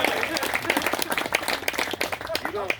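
Crowd clapping and cheering at a Gettysburg 162nd anniversary event, a dense steady patter of hands with scattered shouts and voices mixed in throughout, fairly close and loud.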